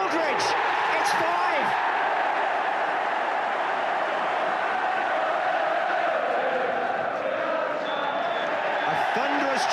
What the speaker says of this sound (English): A thunderous cheer for another championship performance from Liverpool